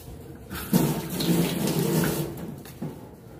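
Tap water gushes into a sink while a frying pan is washed, a steady splashing stream starting abruptly and cutting off after a few seconds.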